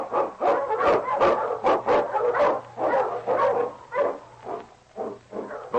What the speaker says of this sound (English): The Wonder Dog King, swiftest and strongest of Eskimo lead dogs